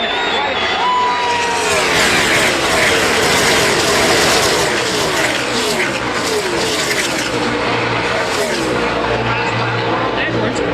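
NASCAR race cars at the Auto Club 400 roar past continuously, engines loud and close from the stands, with tire squeal and a crowd beneath, while a commentator talks over the racket.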